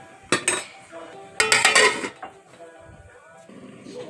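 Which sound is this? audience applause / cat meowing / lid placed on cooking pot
lid placed on cooking pot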